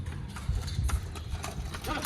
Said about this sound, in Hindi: ओह घोड़ा